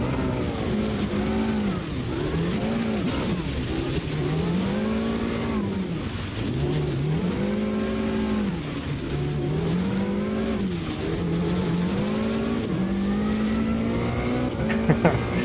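Supercar engines in Automobilista 2 roaring and revving through repeated upshifts and downshifts, a loud, continuous racing drone with pitch rising and falling through the corners.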